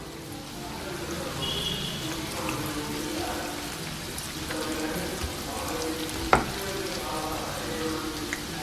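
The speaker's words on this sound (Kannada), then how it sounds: "ಹೊಂಬಣ್ಣ ಬರೋವರೆಗೂ ಕರ್ಕೊಳ್ಳೋಣ" Curd vada, soaked lentil fritters, deep-fry in hot oil toward golden brown, a steady dense crackling sizzle throughout with one sharp clink near the end, no talk.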